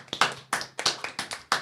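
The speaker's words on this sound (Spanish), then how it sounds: "Un aplauso, por favor." A studio audience breaks into a short burst of close, crisp applause, the claps fast and uneven.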